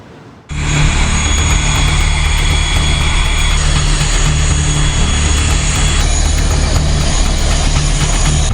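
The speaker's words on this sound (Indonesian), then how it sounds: "evakuasi menggunakan pesawat Hercules" An Indonesian Air Force Hercules transport plane roars loudly and steadily after a sudden start, its propeller engines producing a continuous heavy drone with a constant hum that runs unbroken to the end.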